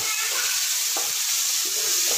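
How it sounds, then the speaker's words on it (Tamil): Masala frying in hot oil for a chicken gravy, a steady close hiss of sizzling with faint stirring scrapes throughout, no voices. "நல்லா எண்ணெயிலே ஃப்ரை பண்ணலாம்."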